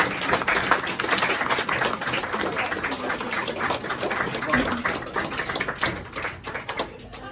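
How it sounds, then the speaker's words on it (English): A small gathering at a church Lent talk gives a round of applause for the speaker, a close, patchy clapping of a modest number of hands that thins out toward the end. "Big round of applause"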